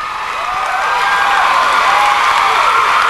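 A studio audience at an MTV awards show breaks into applause and cheering. The clapping is loud and dense, with a bright crowd roar that builds and holds steady.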